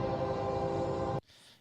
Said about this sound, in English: you can hear the train coming